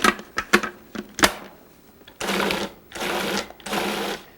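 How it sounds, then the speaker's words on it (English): Food processor pulsing frozen pineapple chunks with sugar: several short sharp bursts of chopping clatter, followed by three longer grinding runs separated by brief pauses. "Add the sugar with the frozen pineapple chunks and then pulse several times to break up the fruit"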